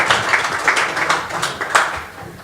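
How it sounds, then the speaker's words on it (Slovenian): Audience applause at a swimming awards ceremony, a steady patter of many hands clapping at moderate distance, fading slightly toward the end, with no talk over it. "Zdaj pa kar aplavz."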